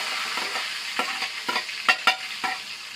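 Hot oil frying in a village kitchen pan, a steady bright sizzle close by with several sharper spits and crackles, no talking.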